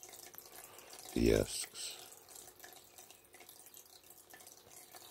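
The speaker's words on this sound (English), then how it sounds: "It's my new water feature. Where is the water coming from?" A new garden water feature gives a faint, steady trickle with one brief louder splash of running water. Someone speaks briefly.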